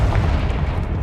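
The Confringo fire spell bursts in Hogwarts Legacy, a loud, booming explosion that fills the brief moment with a heavy low rumble.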